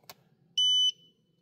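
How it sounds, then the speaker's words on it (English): A single short electronic beep, clear and steady for about a third of a second, comes from a Teslaunch anti-nag device in a Tesla, preceded by a faint click in an otherwise quiet cabin. "You should hear a beep."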